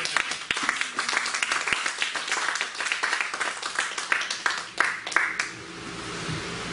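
Congregation clapping in a church service acclaiming the Lord, a dense run of sharp claps with some voices mixed in, steady then tapering off near the end.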